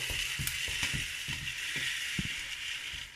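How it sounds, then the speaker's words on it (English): Rice Krispies being stirred into melted Mars bars and butter, a steady crackly scraping stir with soft rhythmic knocks of the spoon against the pan, close and continuous. "So we keep stirring the Rice Krispies into the Mars bars and the butter."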